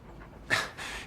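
A dog pants in a film scene, giving two short breathy bursts, the first sharper and louder, over a quiet room background with no speech.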